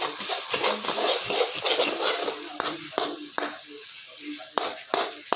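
Starch halwa (nashasta) roasting and being stirred in a pan: steady sizzling with scraping stir strokes and sharp clinks throughout, fairly close.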